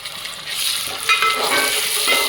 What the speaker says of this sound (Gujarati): ડુંગળી ટમેટા અને મરચાં હવે પાકી ગયા હવે આપણે એમાં રીંગણા નાખી દઈશું